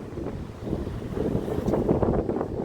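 Strong wind blowing outdoors in open countryside near a farm, buffeting the microphone with a continuous loud roaring rush that swells and gusts, alone without talk.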